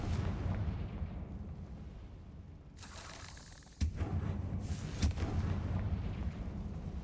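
A Confringo blast spell explodes in Hogwarts Legacy inside a tomb: a sudden sharp burst cuts in over a low rumbling game backdrop, followed by a booming crackle and a second smaller pop, fairly loud with no talk.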